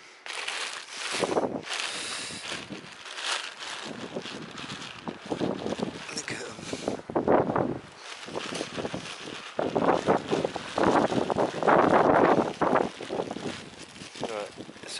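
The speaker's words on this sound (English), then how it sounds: "it's a bit of a shame that it's a bit windier today" Gusty wind buffets the microphone outdoors on the Isle of Wight, coming in loud rumbling bursts that rise and fall irregularly throughout, with a voice speaking intermittently beneath the noise.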